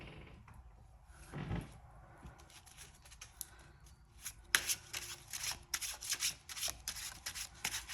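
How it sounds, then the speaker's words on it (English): Tarot cards being laid out and handled on a table, soft close-up sliding and flicking sounds with a run of quick crisp card snaps toward the end, no talking. "I'm going to go ahead and lay these cards out the best that I can to make sure it's all in"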